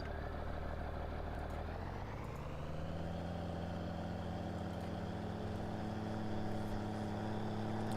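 A Case 7230 combine harvester engine in Farming Simulator 19 drones steadily, rising in pitch early on as it revs up, then holds a constant heavy hum with no talking.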